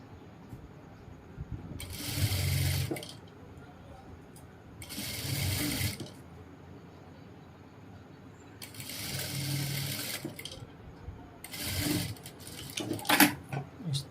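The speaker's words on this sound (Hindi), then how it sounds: "इस तरह से अब ये हम सीधी साइड से सिलाई मार लेंगे।" Sewing machine stitching pant fabric in several bursts of rapid mechanical whirring, each lasting a second or two, separated by quiet pauses, close and moderately loud.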